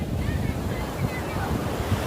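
Ocean waves wash onto Corbyn Beach as a continuous loud roar of surf, blended with heavy wind buffeting the microphone.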